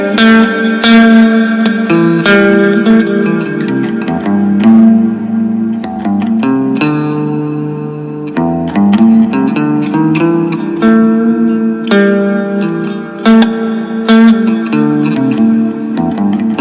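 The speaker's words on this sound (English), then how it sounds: "If we max out the reverb," Electric guitar played through a Carvin SX200 amplifier with its reverb turned fully up, loud and continuous, with chords and notes ringing out in a long washy tail and no voice over them.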